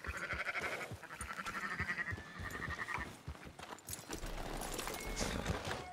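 Sheep bleat at a livestock yard in the Red Dead Redemption 2 video game, several wavering calls of moderate distance mixed with hoof clip-clops and low ambient game sound.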